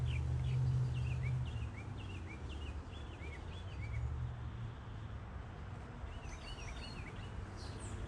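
Small birds chirp around a backyard feeder in a garden, with short, high tweets scattered through steady outdoor background hum. They sound moderately distant, and a brief cluster of calls comes near the end.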